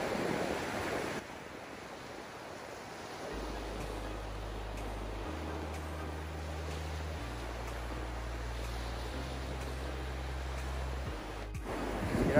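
Cold ocean waves break on a beach during shore fishing, a soft, steady hiss of surf at low level, joined by a low droning tone partway through.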